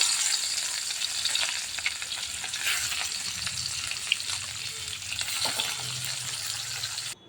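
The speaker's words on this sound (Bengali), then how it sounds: "বাকি মাছগুলো একইভাবে ভেজে নেব।" Fish fry in hot oil for a Bengali fish curry, giving a steady, close sizzle and crackle with faint spatter throughout and a brief stirring clink near the end.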